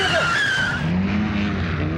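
A car brakes hard and its tires squeal into a skid, a loud, sustained screech that wavers in pitch as the vehicle slides to a stop, heard in a Hindi-dubbed action film.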